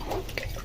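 Water poured by hand over sheep manure bedding for composting worms, a brief close wet splash and trickle with faint dripping, no voices.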